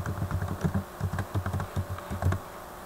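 Rapid typing on a computer keyboard, close and quiet, a quick irregular run of key clicks heard alone.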